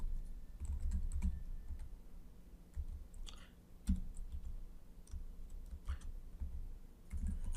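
Computer keyboard typing in irregular bursts of close, crisp key clicks with short pauses between, alone without talk.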